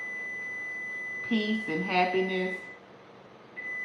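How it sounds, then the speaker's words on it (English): A kitchen oven timer alarm gives a steady, high electronic tone that runs under a person's speech, cuts out briefly, then starts again. "I think that's the alarm, because I do have something in the oven."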